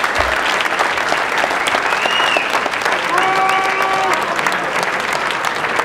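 Sustained audience applause at a fighters' awards event fills the room steadily, with a few whistles and cheers rising briefly over the clapping partway through.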